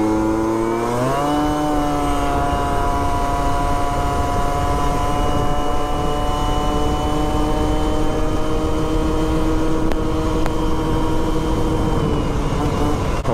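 A scooter fitted with a Stunt 70 kit pulls away from a standing start, its engine note climbing sharply in the first second and then holding a steady, loud buzzing drone as it keeps accelerating.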